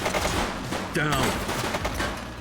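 Gunfire in the police video game The Precinct, sharp rapid shots cracking in close succession over voices shouting.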